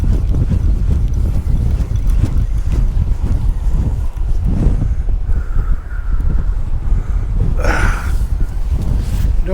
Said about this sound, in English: really windy though. It's about 40 knots.